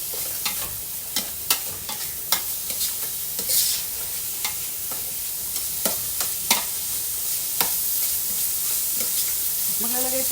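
Boneless chicken pieces, cut small, frying with ginger for arroz caldo, sizzling steadily in the pan while a utensil scrapes and stirs in sharp, repeated strokes.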